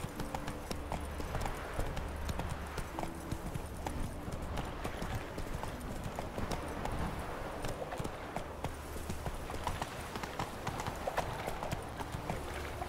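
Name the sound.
horse hooves clip-clopping while riding in The Witcher 3 video game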